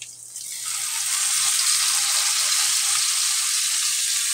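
Soy sauce hits a hot pan of chicken adobo with bamboo shoots, setting off a loud, bright sizzle that swells within the first second and then holds as a steady, close frying hiss.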